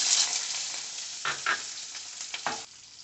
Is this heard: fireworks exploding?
no